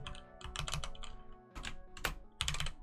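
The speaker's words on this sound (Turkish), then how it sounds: "Chatten gördüğüm isimleri yazıyorum." Fast typing on a computer keyboard gives bursts of crisp key clicks in irregular clusters with short pauses between them, close and fairly quiet, with no voice.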